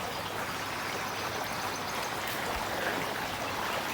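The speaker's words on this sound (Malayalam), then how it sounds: "അതിനകത്ത് ഒരു പാറയിൽ നിന്ന് ഇങ്ങനെ വെള്ളം വരികയാണ്." Water pouring from a rock into a resort pool, a steady broadband rush and splash holding at an even level throughout with no voices.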